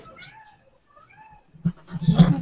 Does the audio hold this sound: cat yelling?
yes